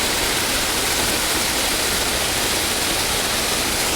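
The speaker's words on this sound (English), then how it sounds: "Maybe it's water coming from the lot next door" Storm water runs near a neighbouring lot, a loud, steady, unbroken rush of water that fills the whole stretch with no voices.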